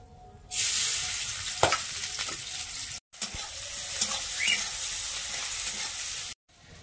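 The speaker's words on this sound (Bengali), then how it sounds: "কড়াতে সরষের তেল দিয়ে দিচ্ছি, এবারে শুকনো লঙ্কা তেজপাতা দিয়ে দিচ্ছি, এবারে কুচিয়ে রাখা পেঁয়াজ দিয়ে দিচ্ছি" Chopped onion, dried red chili and bay leaf sizzle steadily in hot mustard oil in a kadai, a loud, continuous frying hiss with a few stirring knocks, briefly cut to silence twice.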